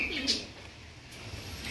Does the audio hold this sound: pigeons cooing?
yes